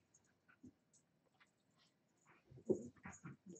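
Dogs whimper and whine faintly at first, then more audibly in short breathy bursts close by, with some panting-like sounds toward the end.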